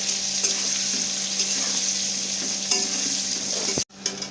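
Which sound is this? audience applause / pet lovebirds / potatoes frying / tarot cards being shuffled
potatoes frying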